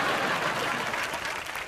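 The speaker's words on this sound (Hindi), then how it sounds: "जोरदार तालियों के साथ स्वागत कीजिए" Audience applause greeting comedian Rajiv Thakur at a live comedy show, a dense steady burst of clapping that fills the short moment and eases slightly toward the end.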